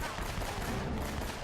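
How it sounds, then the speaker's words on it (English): Rapid pistol fire in the action game Uncharted: Drake's Fortune forms a steady, busy rattle of shots blurring together at a moderate level across a brief moment. "just go rapid fire with the pistol, no problem"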